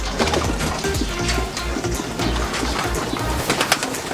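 Pigeons coo in a breeder's loft, giving overlapping throaty low coos one after another. The birds are close and fairly loud, with some fluttering and background rustle and no talking.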